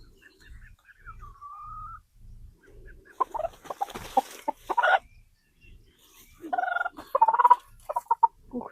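A chicken held before a ritual sacrifice in a village worship clucks and calls in short bursts at close range, with soft low thumps early on and faint sounds in the background.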